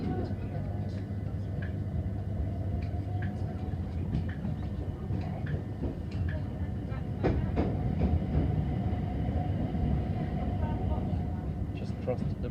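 A London Overground train runs between Clapham Junction and Stratford, giving a steady rumble with rhythmic wheel clicks and a louder passage over a bridge, while a voice talks beneath.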